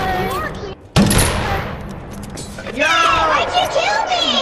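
Egg launcher shots in the video game Animal Company: a sudden loud blast after a brief drop, followed by a busy spread of noisy bursts and chirpy game effects, close and energetic.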